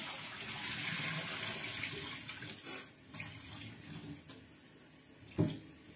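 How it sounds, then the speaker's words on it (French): Boiled potatoes being drained, water pouring and splashing in a steady rush that eases off, followed by a sharp knock near the end. "on va pouvoir venir y mettre nos pommes de terre donc, que je vais égoutter"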